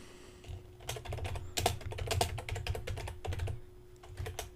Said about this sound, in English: So what I'm going to do is I'll type